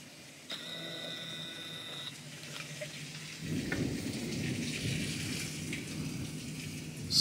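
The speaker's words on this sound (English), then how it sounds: "So the rain has kind of calmed down, but not the lightning." Heavy rain falls steadily during a thunderstorm, a broad constant wash that thickens into a deeper, louder roar partway through, with a swell at the very end.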